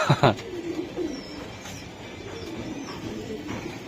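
Racing giribaz pigeons cooing, a few soft low coos close by after a brief louder burst at the start, over a faint steady background.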